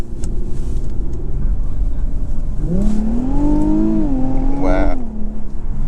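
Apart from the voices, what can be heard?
2021 Infiniti Q50 Red Sport 400 accelerating, 7-speed gearbox shifting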